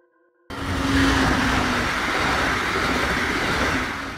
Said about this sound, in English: A train service connecting cities or major population centers, offering long-distance travel with limited stops.